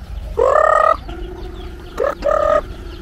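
Two loud, close native chicken calls, a drawn-out cluck-squawk followed after a pause by another, with a low steady hum in between, on a farm.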